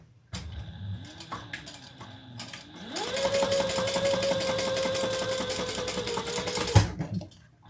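A sewing machine stitches a card slot into a fabric project, with a steady motor whir running continuously for about four seconds after a few short starts and handling sounds.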